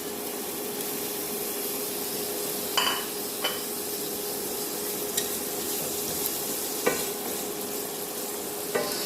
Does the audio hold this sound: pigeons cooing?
no